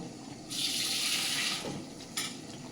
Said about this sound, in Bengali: অল্প করে পানি দিয়ে দেব